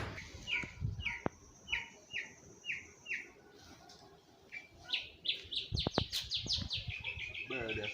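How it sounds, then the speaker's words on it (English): A nightingale sings in Jamaica, a close series of sweet repeated chirping phrases in rhythmic bursts, with faint background noise. "Bird that sing sweet here, man. Nightingale."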